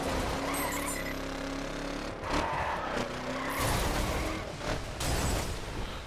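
A car gets rammed during a snowy race in The Crew, with a loud engine roar, tire skids and several sharp impact crunches one after another.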